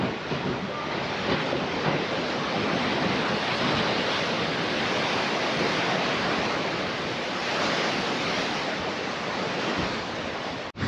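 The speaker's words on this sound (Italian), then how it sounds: "In questi momenti bisogna fare silenzio, parla il mare" Waves breaking on a Fuerteventura beach in the Canary Islands, a continuous loud wash of surf roaring steadily throughout, with no voices.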